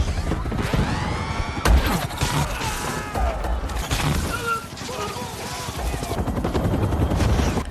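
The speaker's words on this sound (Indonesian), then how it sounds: "Newt dan yang lain berusaha membantu dan mulai menembakkan peluru" Gunfire in a base camp attack scene from the film Maze Runner: The Scorch Trials, rapid bursts of shots mixed with crashing debris, mechanical clatter and shouting voices in a dense, chaotic action mix.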